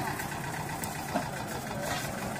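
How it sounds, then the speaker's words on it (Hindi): A two-cylinder Asha tractor engine runs at a steady, even idle close by, a continuous mid-pitched chugging rumble with no pauses. "ये आशे वाले ट्रैक्टर भी अच्छा ट्रैक्टर बनाते हैं भाई, पावर वाला है, दो सिलेंडर है"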